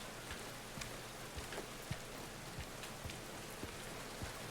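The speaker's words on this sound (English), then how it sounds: "The rain effects are kind of annoying." Steady rain in the Silent Hill 2 video game, a dense, even hiss with scattered soft drop ticks and low thumps, continuous and fairly quiet with no speech.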